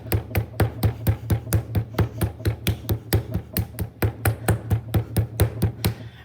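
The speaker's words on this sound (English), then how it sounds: "I'm just going to put that clay on the board and start hitting it down into that and flattening it out" A hand slaps clay flat against a wooden board in a fast, even rhythm of about two dozen close, sharp thuds over six seconds, with no voices.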